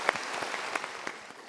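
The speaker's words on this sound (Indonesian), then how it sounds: "Kita berikan tepuk tangan dulu." Scattered, fairly faint clapping from an audience at a motivational talk, a handful of distinct claps spaced irregularly over a brief moment.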